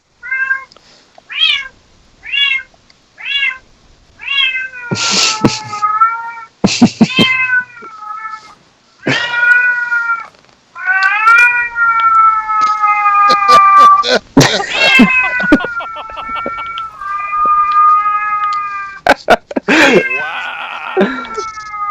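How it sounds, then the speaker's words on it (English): A cat meows over and over in quick succession, the loud, close cries coming in a rapid string and then stretching into longer, drawn-out wails with short gaps between. "It was like chain gunning those meows a minute ago."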